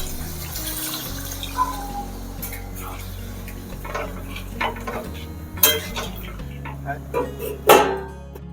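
Water poured into a pan of browned chicken and spices for a red Bengali chicken curry, with splashing and sharp clinks of metal against the pan, a low hum underneath and a few louder knocks near the end.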